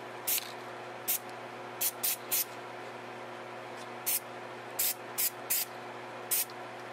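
NeverWet waterproofing spray applied to an electronic speed control set on tape, in about ten short hissing bursts spread unevenly, each crisp and close over a quiet electrical hum.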